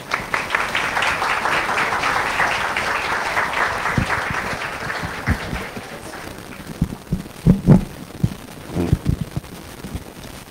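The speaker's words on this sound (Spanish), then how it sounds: "vamos a recibirla con un fuerte aplauso" Audience applause at an International Women's Day event, dense clapping for the first few seconds that thins out and fades, leaving scattered low thumps and handling knocks toward the end.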